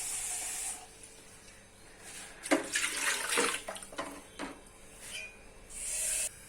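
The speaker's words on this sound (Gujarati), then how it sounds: "1 તપેલી પાણી એમાં જ આપણે એડ કરી દઈશું" A pot of water is poured into rice dough in a cooking vessel, making soft splashing and gushing bursts in the middle of the clip against a faint background hiss.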